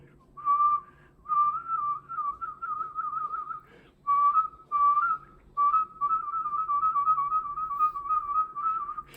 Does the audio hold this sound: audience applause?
no